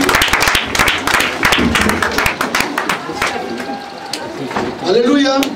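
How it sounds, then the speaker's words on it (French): A church congregation claps during a Sunday thanksgiving service, with loud, close, rhythmic hand claps in a steady beat that thins out toward the end as voices rise over it. "On applaudit Jésus!"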